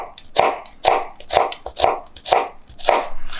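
A kitchen knife mincing a shallot on a cutting board, six evenly spaced chopping strikes about half a second apart, close and distinct, with no talking.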